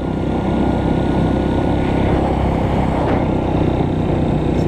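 A Honda CRF 230 motorcycle with a worn clutch revs and accelerates, producing a steady, loud, close engine drone that barely changes and has no voices over it.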